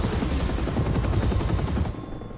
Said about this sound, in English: No way they brought a helicopter for this.